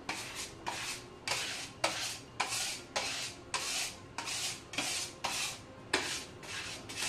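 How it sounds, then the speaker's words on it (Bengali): Putty rubbed by hand into bathroom tile joints makes a steady series of about a dozen raspy scraping strokes in an even back-and-forth rhythm, close and alone. "টানার পর এভাবে জয়েন্টে জয়েন্টে আবার ভালো করে পুটিং ঢুকিয়ে দিচ্ছি।"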